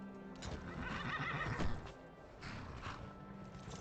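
A horse whinnies loudly in Skyrim while hooves clip-clop steadily beneath it, with a second, softer neigh a moment later, no voices present.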